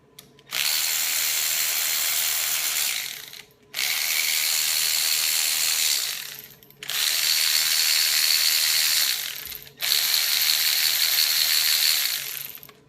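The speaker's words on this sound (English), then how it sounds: "we're going to go ahead and undo all the connecting rod bolts" A ratchet with an 11mm socket loosens the connecting rod bolts on a 6.0 Powerstroke diesel engine during teardown, in four long, steady bursts of close, loud, whirring mechanical noise separated by short pauses.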